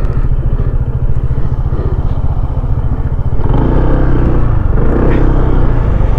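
A motorcycle rumbles loud and close on a Marinduque loop ride aboard a Honda ADV 160, a steady throbbing engine drone that shifts in tone partway through as another machine passes.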